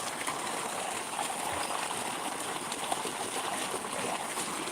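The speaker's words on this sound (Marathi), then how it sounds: "इथं मोटर पण चालू आहे बघा" A water pump motor runs steadily in an open field, a continuous hissing, gushing water rush with no pauses.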